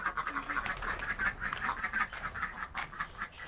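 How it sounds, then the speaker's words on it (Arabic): Ducks on a small farm quack repeatedly in a continuous, nasal chatter, fairly faint and close, with no talking over it. "فطبعا مش هينفع البط."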